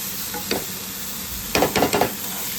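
Green chili thecha cooks in oil in a pan over low steady sizzle, with a few short clusters of louder scraping stirs near the end, without any talking.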